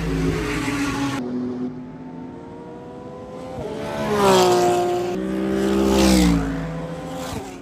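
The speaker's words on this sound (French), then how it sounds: "Notre caisse, là, elle vient juste de sortir des stands." A race car, number 37 on new tyres, pulls out of the pit lane at a track in Indonesia, its engine rising and falling through several rev sweeps as it accelerates away, mid-distance over background noise.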